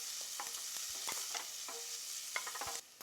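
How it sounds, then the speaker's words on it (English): Chopped onion sweats in hot oil in a pan, giving a steady soft sizzle with scattered light clinks and stirring scrapes, close and fairly quiet, with no voices. "Onion going in. So I just want my onion to sweat a bit before the garlic goes in."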